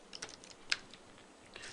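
Typing on a computer keyboard while writing C++ code: a short run of quiet, scattered key clicks with one sharper keystroke near the middle, close and alone with no talk.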